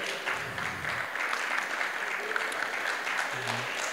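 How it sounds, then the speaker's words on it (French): At a volunteers' recognition event in St-Calixte, a seated crowd keeps up sustained, even applause, a continuous patter of many hands clapping, with a faint low murmur near the end. "Oui, on peut l'applaudir."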